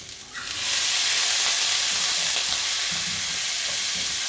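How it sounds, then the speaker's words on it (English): Beef hits a hot pan and a loud, steady sizzle of frying takes over, with faint stirring and scraping underneath, while cooking beef biriani. "And then we fry this for like a minute. And then we add our meat."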